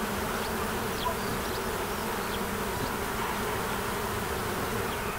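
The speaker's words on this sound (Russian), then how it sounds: "И пчелы исполняют весеннюю симфонию." Bees buzz steadily around blooming cherry plum trees in a yard, a dense, continuous close hum of many insects with no voices.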